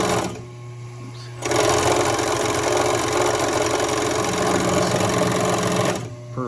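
Rebuilt Fischbein 400 industrial bag-sewing head starts up and runs with a loud, steady mechanical chatter for about four and a half seconds, then stops, with quieter machine hum before and after.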